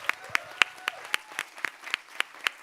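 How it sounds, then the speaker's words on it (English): Audience applause for an expert panel at a health equity forum on gun violence: sparse, distinct hand claps at a moderate distance, roughly a dozen sharp slaps in loose rhythm, with no talk over them. "Put your hands together for our panel, please."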